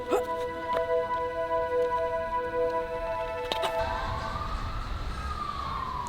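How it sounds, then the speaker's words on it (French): An ambulance siren up ahead wails in a slow rising and falling sweep, fairly faint at first under ticking and background noise, then it swells more clearly toward the end. "il y a une ambulance devant"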